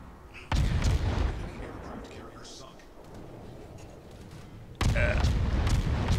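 Ship guns in the World of Warships video game firing, with a loud heavy boom at the start that rumbles and decays for several seconds, then a second loud blast near the end, with talk audible at times.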